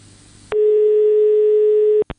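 A telephone line tone sounds during a call to the 016 gender-violence information helpline: a single steady, loud beep lasting about one and a half seconds, framed by clicks, then a short blip.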